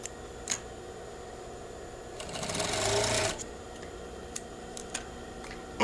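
A sewing machine stitches bias trim in a short, quiet burst of about a second of whirring stitching. Faint ticks and clicks come before and after it.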